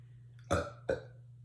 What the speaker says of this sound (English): I think I'm gonna burp the entire time